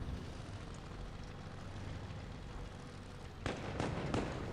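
Tank cannon shots in the WoT Blitz game, a few sharp cracks in quick succession near the end, rising over a steady rumbling battlefield bed.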